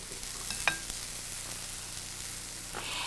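Sliced onion and bell pepper cook on a George Foreman grill, giving a soft, steady sizzle with a single light clink early on and a slight swell toward the end, heard alone without talking.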